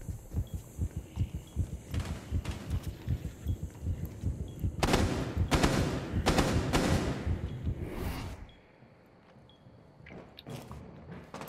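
Heartbeat effect from Finka's adrenal surge in Rainbow Six Siege, a steady, rapid, low thumping pulse under game noise, followed by a burst of loud gunfire and then quieter pulsing.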